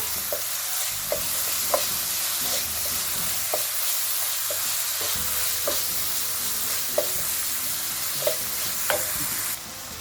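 Minced meat seasoned with pepper and cumin is stirred in a frying pan, a steady sizzle running throughout while a utensil scrapes and taps the pan in regular strokes roughly every second, close and clear with no talking.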